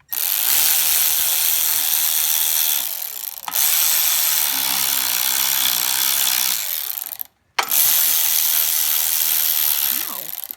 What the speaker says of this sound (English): use a wrench to tighten them down